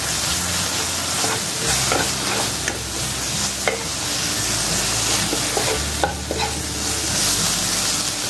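Spice paste with turmeric sizzles loudly in a hot pan while a spoon stirs and scrapes it around, with occasional sharp taps against the metal.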